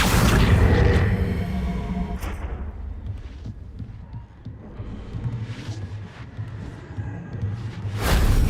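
Confringo blasting spell explosion in Hogwarts Legacy, a loud booming burst with a whoosh at the start, followed by rumbling game ambience and a second loud blast near the end.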